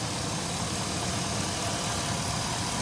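The 5.3 V8 of a 2002 Chevy Suburban runs under the hood at a steady idle, giving a continuous mid-level hum with a faint ticking texture, close and alone.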